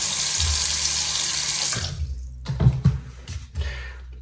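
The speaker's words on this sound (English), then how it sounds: "And then I'm going to just put on my water." Cold water runs hard from a sink tap for nearly two seconds in a steady rushing hiss, then the flow is shut off, leaving a few splashes and handling sounds.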